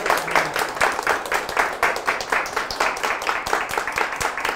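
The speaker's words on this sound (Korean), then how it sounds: "수고해 주신 우리 신주백 교수님께 박수 드리면서 오늘 이 순서 마치도록 하겠습니다" An audience claps at the close of a lecture, a steady, fairly loud round of applause lasting several seconds with no voices over it.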